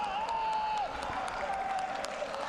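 Stadium crowd at a third-division football match between FC Ingolstadt and 1860 Munich applauds with scattered, distant clapping over a constant crowd roar, and a high whistle-like tone drifts through.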